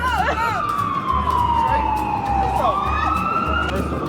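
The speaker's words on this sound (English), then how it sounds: "That's for Manny right there. That's the ambulance" An ambulance siren wails nearby, its pitch sweeping down and back up, over a low pulsing engine rumble.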